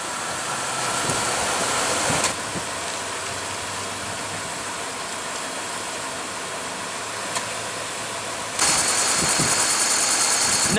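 A 2016 Lexus LX570 with a 5.7 L V8 rumbles with steady engine noise. It shifts level at about two seconds and rises to a louder, brighter roar near the end, with no talking.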